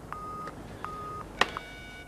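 A telephone being dialed in a 1993 TV comedy scene: a few short, clear electronic keypad tones in a steady sequence, followed by a sharper click and beep, close and distinct with no talking.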